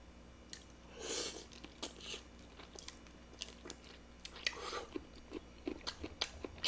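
Someone chews shrimp gambas up close, with soft, moist bites and crunchy chewing sounds repeating in uneven bursts. The sound is quiet and there is no talking.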